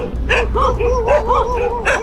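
Dogs barking at night on a roadside near Bangkok, several close, loud barks and yelps in quick uneven bursts over a low rumbling background, no one talking.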